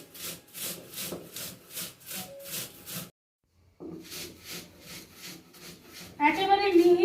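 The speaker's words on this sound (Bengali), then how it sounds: "একটা শিল নোড়া নিয়েছি, এর মধ্যে মুড়িটা আমি গুঁড়ো করব।" Puffed rice is ground on a traditional stone slab (shil nora), with rhythmic back-and-forth rubbing strokes that are close and moderately loud. A brief pause breaks the strokes, and a louder clattering noise comes in near the end.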